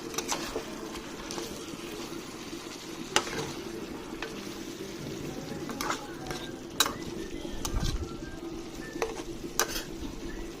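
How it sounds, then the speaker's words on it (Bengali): Chicken for biryani, coated in garam masala, sizzles gently in a pan while it is stirred, with occasional sharp scrapes and clinks of a utensil against the pot. "এবার মশলাটা মাংসর গায়ে গায়ে মেখে নেব"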